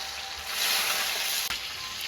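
Tofu frying in a hot pan in a village kitchen, a steady broadband sizzle and crackle with a brief dip midway, no talk over it.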